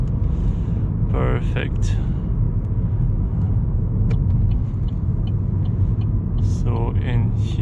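Interior engine rumble of a 2013 Vauxhall Astra 1.4 SRI accelerating through second and third gear on country roads, a steady low drone under a driver's brief spoken comments.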